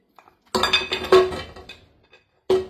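Oxtails drop into a metal pot on a stove over medium heat, making a burst of close, loud clattering and clinking, a short pause, then one more sharp clank.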